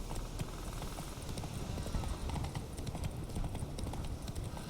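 The horse Roach trotting in The Witcher 3, steady clip-clop hooves going on throughout, close and fairly loud over a dense game-world background.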